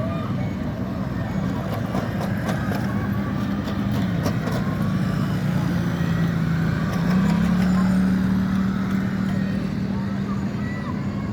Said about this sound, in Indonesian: Ada bus Sinar Jaya lagi.